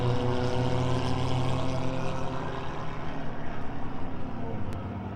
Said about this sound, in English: the green is waving, and the Young Guns are racing here.